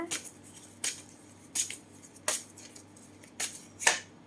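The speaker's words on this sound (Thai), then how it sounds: "ขออนุญาตสับไพ่นะคะ" A deck of tarot cards is shuffled during a card reading, making a series of short riffling bursts at roughly regular intervals, close and fairly quiet, with no talk over them.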